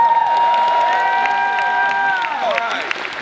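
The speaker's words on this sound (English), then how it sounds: "So give Nico a round of applause." Audience at a Team Conquer Wealth Bowl 2017 event applauding and cheering for Nico, steady loud crowd noise throughout with tonal music-like lines over it, fading slightly toward the end.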